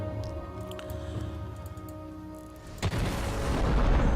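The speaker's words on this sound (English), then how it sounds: "Super Mega Death Rocket, it sounded like." Jinx's Super Mega Death Rocket from League of Legends detonates with a sudden heavy boom midway through, followed by a swelling rumbling roar over steady game sound.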